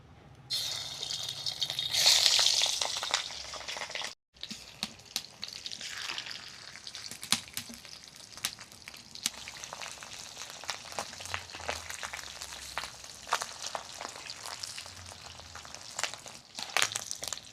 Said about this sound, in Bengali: কড়ার মধ্যে দিয়ে দেবো বেশ কিছুটা সর্ষের তেল মাছের ডিমগুলো আগে ভেজে নেবো